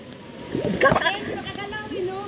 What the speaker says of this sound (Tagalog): Ang grabing tubig.